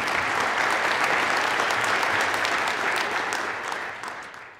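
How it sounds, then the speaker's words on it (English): Audience applause at a UN climate conference event on moving past coal, dense sustained clapping from a large crowd that holds steady, then tapers off near the end. "an applause is more than welcome"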